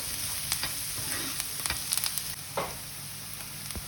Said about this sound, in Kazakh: сарымсақ, яғни чеснокты майда етіп турап, салып, пияз қып-қызыл болғанша қуырамыз